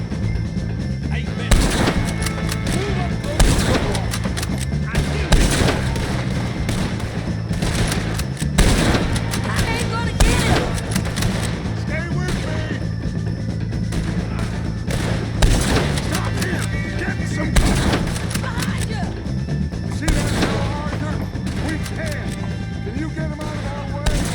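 Gunfire in Red Dead Redemption 2 during a fight with O'Driscolls, many loud shots cracking out at irregular intervals over continuous battle noise for the whole stretch, with game voices mixed in.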